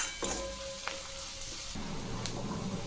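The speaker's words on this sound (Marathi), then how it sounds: "आता हे मसाले आपण व्यवस्थित परतून घेऊ." Fried onion with red chilli powder, turmeric and kitchen king masala sizzles in a pan, a soft, steady crackle broken by a couple of light stirring clicks.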